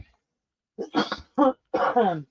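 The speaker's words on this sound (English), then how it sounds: "I need a cough" Several short, rough coughing bursts come in a quick series after a moment of silence, close and fairly loud.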